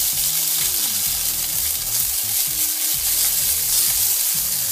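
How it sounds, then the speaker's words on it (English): Boiled noodles fry in oil in a pan for chicken chow mein with a steady, bright, close sizzle. A low hum with shifting tones sits underneath, and no one speaks. "Now I'm ready to fry my noodles."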